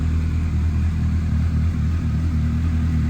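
A 2014 Suzuki GSR 750 motorcycle engine runs at a steady, deep, bassy rumble, close and continuous throughout, with no voices.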